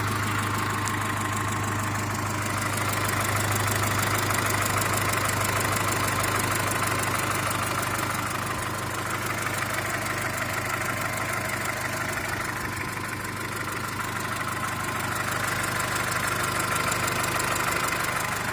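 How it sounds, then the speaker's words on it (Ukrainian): A Volkswagen Golf 4 petrol engine, due for an overhaul, idles steadily with a faint, fast hydraulic lifter tick over a low hum, continuous and close with no talking. "Чути е, легасенький цокіт компенсатора."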